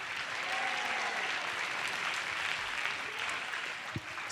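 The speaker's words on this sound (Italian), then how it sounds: "E un altro grandissimo applauso per questo gruppo meraviglioso." Sustained audience applause for a group at the Piccolo Rifugio in Vittorio Veneto: a broad, even wash of clapping throughout, with a sharper burst near the end.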